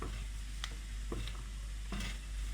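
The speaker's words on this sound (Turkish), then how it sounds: "Burada mantarı da biraz kavuracağız." Continuous sizzling of chopped mushrooms sautéing with onions in a hot pan, punctuated by a few sharp scrapes and taps of a spoon stirring, close and steady, no voices.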